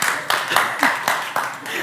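Church congregation claps for Bethany during a sermon service, a run of evenly spaced, sharp hand claps in a steady quick rhythm, fairly close and bright.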